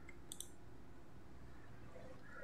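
A single computer mouse click, a quick double tap, comes early and sits faint against a low steady background hum, with no voices.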